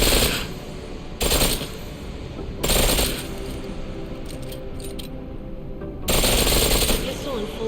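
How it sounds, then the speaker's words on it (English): A pistol firing in full-auto mode in Deus Ex: Mankind Divided, with three loud, short rattling bursts spaced a second or more apart over a steady ambient background. "Pistol in full auto will take down targets fast, but it'll burn through your ammo"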